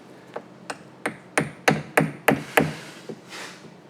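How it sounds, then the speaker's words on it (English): An 8-ounce claw hammer striking hardened steel, giving about eight sharp metallic blows at a steady rhythm, growing louder toward the middle, close and clear with no talking. "It's hardened steel, and I'm trying to do it with a claw hammer, an 8-ounce claw hammer."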